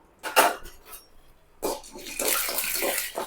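Chana dal tipped into hot oil in a pan while making kadamba chutney, giving an abrupt clatter and hiss, then a steady broad sizzle of frying that holds through to the end.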